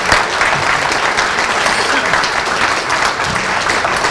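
Sustained audience applause at a business awards ceremony, a steady wash of many hands clapping at even loudness for the whole stretch, with faint crowd murmur underneath.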